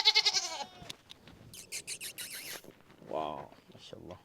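A goat bleats in a Pakistani village, several wavering cries close by, with someone talking between them and soft rustling sounds.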